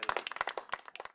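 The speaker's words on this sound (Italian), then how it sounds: "Applauso Vincenzo" A small group claps briskly in a quick uneven run of sharp hand claps, close and fairly quiet, lasting about a second.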